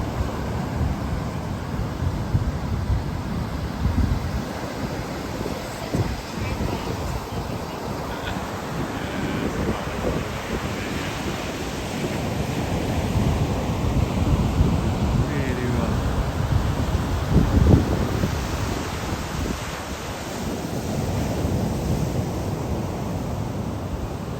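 Rough sea waves crash and wind buffets the microphone at Brighton beach in the dark, a broad roaring wash that swells and recedes over the whole stretch, loud and unbroken.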